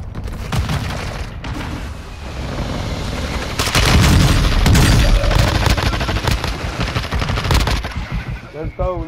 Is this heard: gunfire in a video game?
yes